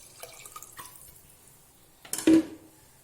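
Water goes into rice for chicken biryani: a few faint drips in a quiet kitchen, then a short, louder splashing pour near the end.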